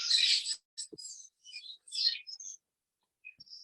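A bird chirps in a quick series of short, high tweets and trills with brief pauses between, faint and heard alone with no voices.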